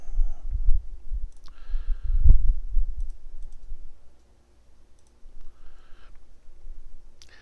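A computer mouse gives a few sharp, isolated clicks at uneven intervals, close and fairly quiet, with soft desk handling noise between them and a pause near the middle.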